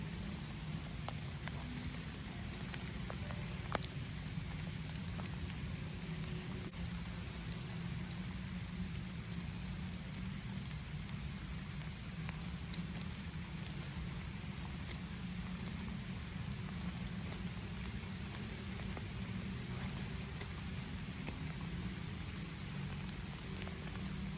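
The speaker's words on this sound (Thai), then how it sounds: "ฝนตกอีกแล้ว ไม่มีวันไหนที่ไม่ตกฝนก็ได้" Rain falling outdoors while hedgehog mushrooms are being picked: a dense, even patter of drops on leaves and surfaces, continuous and fairly faint, with no talking.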